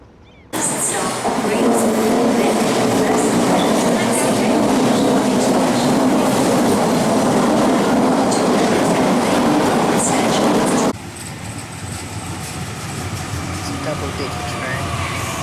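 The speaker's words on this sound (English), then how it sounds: "I'll be showing you some double-decker trains, clips, and double-decker buses" Double-decker train in the Cities: Skylines game rolling past with steady rumble and clickety-clack of wheels, loud and close for about ten seconds before the sound drops to a quieter, more distant rail hum.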